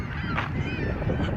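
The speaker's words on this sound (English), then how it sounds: "Look at all these birds." Geese honk at a boat dock, one loud nearby honk standing out over a background of rustling and bird noise, with a fainter call following.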